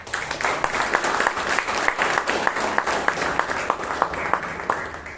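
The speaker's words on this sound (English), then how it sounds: "for the gem of the evening, please give a huge round of applause" An audience applauds at a Toastmasters meeting in Bangalore, a steady burst of clapping from many hands lasting several seconds, fairly close and even in loudness.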